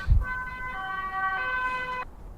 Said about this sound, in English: As the ambulance goes past.